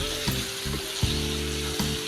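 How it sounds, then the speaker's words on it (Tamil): Gooseberries frying in hot oil give a continuous bubbling sizzle, broken by a few hard knocks and scrapes as a spoon stirs them against the pan. "உடனே நெல்லிக்காவை சேர்த்துருங்க. இதில் நல்லா மிக்ஸ் பண்ணுங்கள்."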